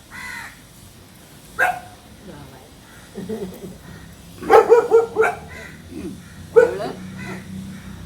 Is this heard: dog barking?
yes